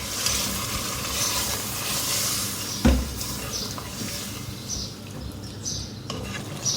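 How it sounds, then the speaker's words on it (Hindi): Mutton korma is stir-fried with masala in a pan, a continuous low sizzle and scraping stir, with one sharp knock of the spoon partway through and no one speaking. "अब इसकी अच्छी से भुनाई करेंगे।"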